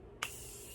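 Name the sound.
makeup setting spray being sprayed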